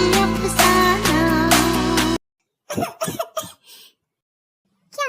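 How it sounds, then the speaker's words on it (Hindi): Coughing fits in short bursts after a stretch of background music cuts out, several close, sharp coughs and throat sounds spaced by silence. "तुम्हें अचानक से खांसी क्यों चढ़ गई?"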